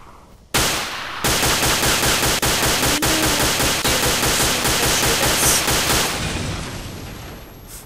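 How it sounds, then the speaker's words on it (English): Sustained automatic gunfire in a shooter video game, enemy fire aimed at the player, loud and continuous for several seconds with rapid bursts and a sharp crack near the start, fading slightly at the end. "I found out who's shooting me from this side."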